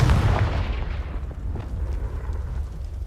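A Confringo blasting spell goes off in Hogwarts Legacy with a heavy, booming explosion at the start, and a rumbling tail fades slowly over the next few seconds.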